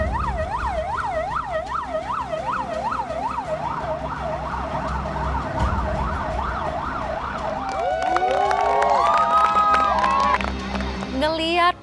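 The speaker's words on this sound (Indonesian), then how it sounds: "kejauhan samar-samar suara sirene mobil pemadam kebakaran. Semakin dekat, semakin dekat." A fire engine siren wails in a fast repeating up-and-down pattern, growing louder as it nears, then shifts to a different warbling tone over traffic noise.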